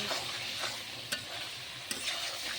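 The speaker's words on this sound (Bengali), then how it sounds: "এখন দিয়ে দেবো একটু গরম মশলা, জিরার গুঁড়া, দিয়ে ভালোভাবে কষিয়ে নেব।" Goat meat frying with garam masala and cumin powder gives a steady close sizzle, broken by a couple of sharp clinks as a spatula stirs and scrapes the pan.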